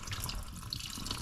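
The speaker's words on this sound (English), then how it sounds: "I don't think I want this water, so I'm gonna strain this." Water from soaked beans pours through a strainer into a sink as a steady hiss of running water, close and continuous, with small splashes and drips.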